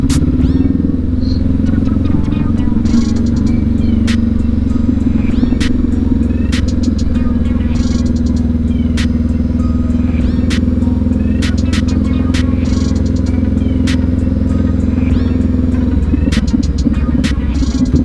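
A 2019 Honda CB500X motorcycle heard while riding on city streets, a loud, steady low engine and exhaust drone with wind rumble throughout and occasional clicks.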